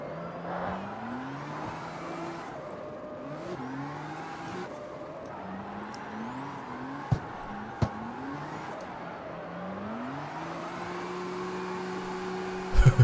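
A drifting car in the video game CarX Street, an S-chassis build, with the engine revving through rising pitch sweeps and repeated gear shifts, a couple of sharp clicks along the way, loud and steady with no talking.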